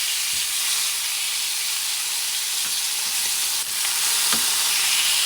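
Bison London broil sizzles hard in a hot pan, a loud, steady frying hiss with a few faint clicks and knocks, no voices.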